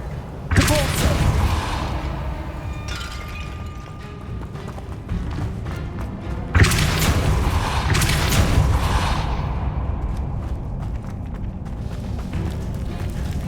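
Depulso force spells cast in the game Hogwarts Legacy, several sharp whooshing blasts with crackling bursts, the strongest near the start and midway, against an ongoing game soundscape.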